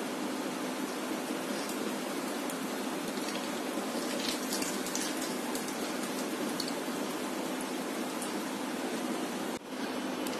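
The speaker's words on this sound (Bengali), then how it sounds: "এগুলি ভাজতে বেশিক্ষণ সময় লাগবে না" Chicken-and-mayonnaise bread balls deep-frying in hot oil give off a steady, dense sizzle that holds evenly throughout, with no talking.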